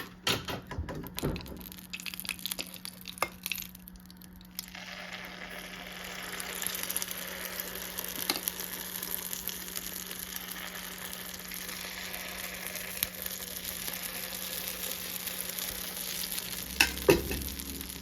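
Chopped onion, carrot and curry leaves sizzle steadily in hot oil for spicy paniyaram, with a burst of crackling and stirring early on that settles into a constant, even fry.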